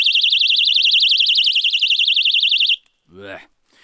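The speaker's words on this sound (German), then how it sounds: "und dann geht der Alarm los." A personal pocket alarm set off by pulling its pin gives a piercing, rapidly warbling electronic siren that blares loud and close for nearly three seconds. It cuts off abruptly, and a short spoken word follows.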